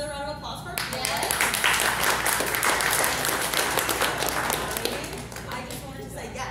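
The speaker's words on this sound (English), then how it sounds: "Another round of applause for yes." Applause from an audience at the 2024 OKC MED Week Minority Supplier Panel: a voice speaks briefly at the start, then a crowd breaks into sustained clapping that fades gradually near the end.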